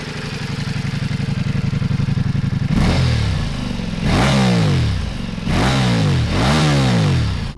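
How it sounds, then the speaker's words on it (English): A Ducati Multistrada V4 Rally with a carbon-tipped Akrapovic silencer drones steadily, then blips sharply four times in rising-and-falling revs, close and loud with no talking. "it actually gets this lovely looking carbon-tipped Akropovich silencer, but I will say it's not that loud at the exhaust."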